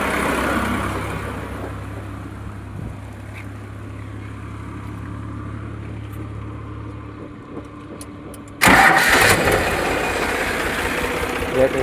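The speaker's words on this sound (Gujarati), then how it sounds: "Battery self start." A 2020 diesel tractor with a battery self-starter runs with a low, steady idling rumble. Near the end it shifts to a sudden, much louder rough roar, and a voice can be heard.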